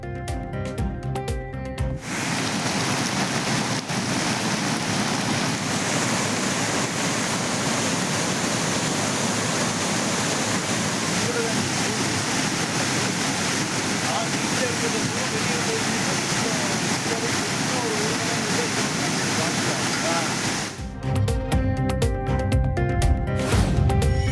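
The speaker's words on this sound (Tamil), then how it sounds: "மேற்கு தொடர்ச்சி மலைப்பகுதியில் கொட்டிய கனமழையால் குற்றால அருவிகளில் காட்டாற்று வெள்ளம்." Courtallam waterfalls in full flood after heavy monsoon rain in the Western Ghats, a steady, loud roaring rush of falling water that holds constant for about twenty seconds between stretches of music.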